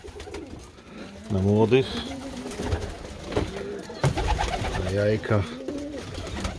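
Ornamental pigeons cooing in a loft, several close, rolling coos in overlapping bursts while someone talks over them.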